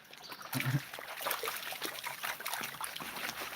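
Creek water trickles and splashes steadily over rocks at a gold-prospecting spot, a close, bubbling wash with a few brighter splashes and no speech.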